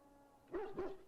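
Two quick barks from a dog in Dragon Age: Origins, close and distinct, sounding against a quiet ambient background.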